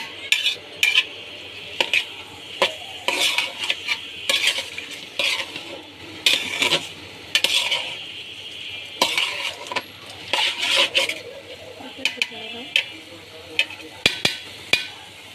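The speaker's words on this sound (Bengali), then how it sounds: "দিয়ে দিছি চালের ডাল, দিয়ে যে নাড়াচাড়া করতেছি" Rice and lentils for khichuri being stirred in a pot, irregular bursts of spoon scraping and clinking against metal, close and fairly loud, with soft sizzling between strokes and no voices.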